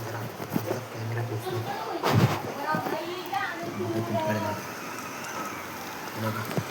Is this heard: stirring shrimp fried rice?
no